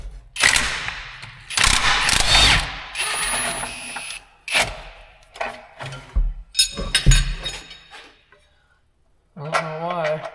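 A wrench works a bolt loose on a Ford OBS truck, bursts of ratcheting clicks and metallic clanks broken by pauses, close and loud, with people talking in between.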